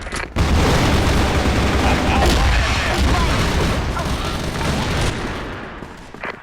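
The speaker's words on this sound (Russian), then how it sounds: "Осколочная. Осколочная. Граната пошла." Inside the game CrossFire, a fragmentation grenade blast lands amid heavy gunfire, a loud, dense barrage of booms and rapid shots that fills the space and fades out near the end, with a voice briefly heard.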